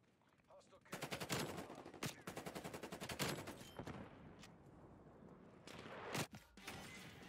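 A gunship fires from overhead in a Call of Duty multiplayer match, rapid machine-gun bursts with loud dense rattling volleys and scattered single shots, fairly close and intense.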